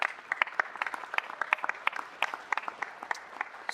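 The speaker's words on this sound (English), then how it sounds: "Another round of applause for him" Applause at a city council meeting, a sparse scattering of distinct claps from a modest audience, steady and moderately loud throughout with no talk.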